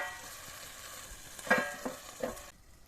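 Food frying in a pan with no spices added, giving a steady sizzle with a few louder stirring scrapes and clinks near the middle before the sound cuts off abruptly. No one speaks.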